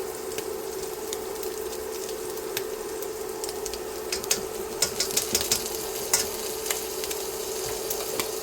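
Two teaspoons of minced garlic sizzling in a skillet or pot, a dense, even frying hiss with scattered sharp pops and spatters, growing busier toward the end.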